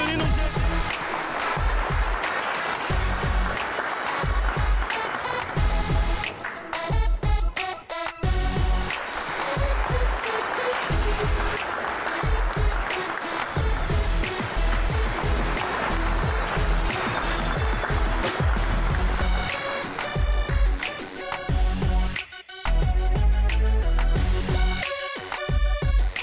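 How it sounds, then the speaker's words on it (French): Parents at a school mental-math gala give a long, loud, steady round of applause for a team of students from an international school in Laval, the clapping dense and continuous with brief dips. "S'il vous plaît, chers parents, on applaudit l'équipe."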